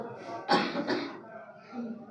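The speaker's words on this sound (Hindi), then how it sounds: "खांसी हो रहा है बेचारी को" Two quick coughs from one girl nearby in a classroom, the second slightly softer, followed by faint background murmur.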